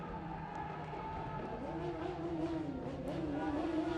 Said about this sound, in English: You see him there, revving the motor.